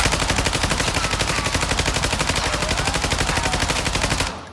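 Rapid automatic gunfire in Call of Duty: Warzone rattles in a fast, unbroken burst for about four seconds, loud and close, then stops abruptly.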